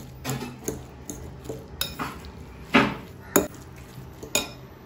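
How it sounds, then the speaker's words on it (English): A utensil stirring chopped onions, capsicum, tomatoes and green chilies for Goan fish cones, with close, sharp clinks and scrapes against the pan repeating roughly every half second, no voices. "And now mix this up properly."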